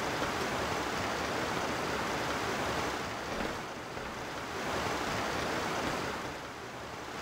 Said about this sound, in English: yep, the water is flowing